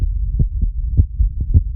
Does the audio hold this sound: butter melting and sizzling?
no